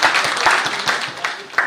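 Short burst of applause from a conference audience at a constitutional stakeholder meeting in The Gambia, a dense patter of many hands clapping at moderate level, filling the room briefly without talk.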